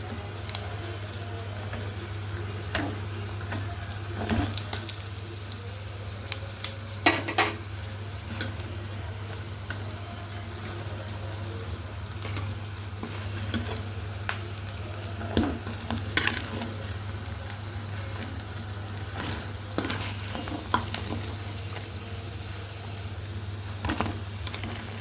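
Aloo tikki, potato patties, fry in a pan with a low continuous sizzle, a steady hum underneath and scattered clicks and scrapes from a fork turning them.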